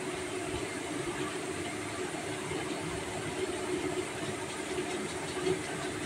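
Ingredients frying in oil for a homemade hair oil give a steady, dense sizzling hiss that holds close and even throughout, with no pauses.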